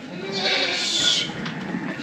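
A flock of sheep in a snowy rural setting gives a loud, close, sustained bleat that overlaps into a continuous blare with a second call behind it.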